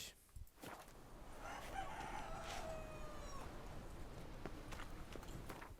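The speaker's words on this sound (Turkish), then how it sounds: "Dur şimdi bu horoz benim bu yaylamı mahvedecek." A rooster in The Witcher 3: Wild Hunt crows in a drawn-out call over steady background noise, with a few sharp clicks and thumps around it.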